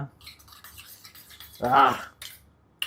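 Eggs beaten together with jasmine flowers for an omelette: a burst of utensil clatter and whisking against a bowl, loudest midway, with scattered kitchen clinks around it.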